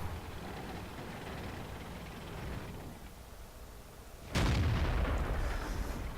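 A tank cannon fires once in a tank video game, a sudden loud broadband blast that cuts through the steady low rumble of engines and lingers as a booming decay.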